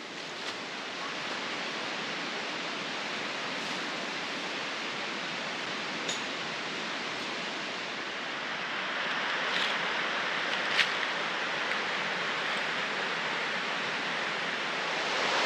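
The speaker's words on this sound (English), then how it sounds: "sound of the creek" Steady broadband rush of a flowing creek at Cabin Flats campsite in the Great Smoky Mountains, continuous and fairly close, with no voices, swelling slightly louder toward the end.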